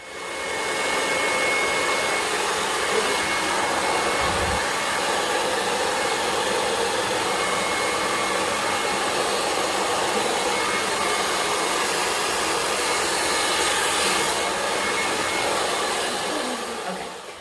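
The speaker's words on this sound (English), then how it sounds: "So we have diffuse, really just diffusing, blow drying, whatever you want to call drying the curls here." A hair dryer with a diffuser runs steadily for drying curly hair on a young girl, making a loud, continuous whooshing roar close by. It stays even from start to finish and switches off at the very end.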